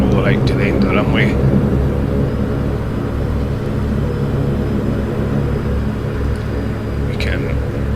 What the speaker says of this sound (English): So let's just roll it out to the end of the runway.